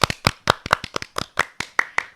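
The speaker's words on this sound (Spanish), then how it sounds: "¡Fuerte aplauso!" A small group claps to welcome a guest onto a podcast, about a dozen sharp, close hand claps in a quick, uneven rhythm with no talking over them.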